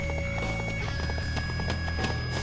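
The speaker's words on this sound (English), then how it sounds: "There's my horse red hair" Red Hare, a horse in Dynasty Warriors 4 Empires, galloping with a quick rhythmic run of hoofbeats over steady battle background noise, close and moderately loud.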